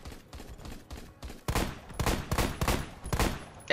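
Rapid gunfire from a SCAR SSR rifle in the video game Phantom Forces: a fast, loud run of close, punchy shots in uneven bursts that grow denser partway through, with no talking.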